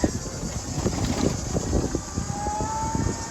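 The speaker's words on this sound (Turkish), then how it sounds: "Çok rüzgar var" Strong wind roars and buffets the microphone in a steady, gusting rush outdoors near the sea.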